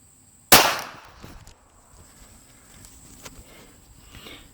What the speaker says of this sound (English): now we'll go ahead and take our next shot